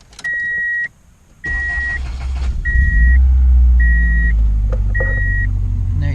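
A Subaru with a manual swap is started in gear: a chime sounds repeatedly, the starter cranks briefly, then the engine catches into a loud, steady idle close by while the warning beeps continue over it.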